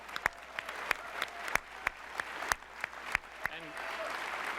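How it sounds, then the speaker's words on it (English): An audience at PlayStation Experience 2015 applauds PS4 developers, with sparse, distinct loud claps standing out over a background of softer clapping, and a voice coming in near the end. "I'd like to give a round of applause to the developers that have worked so hard to make PS4 awesome"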